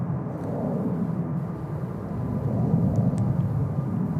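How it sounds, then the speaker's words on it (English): A Delta Connection Embraer E175 jet takes off at San Francisco airport, heard as a distant, broad, low roar that swells gradually and holds steady, with no talk. "E175 taking out to Seattle. Delta connection."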